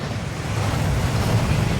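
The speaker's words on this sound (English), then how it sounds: "That waterfall washes away all enchantments." A waterfall rushes in Hogwarts Legacy, a loud, close, continuous broadband roar of falling water with no breaks and no voices.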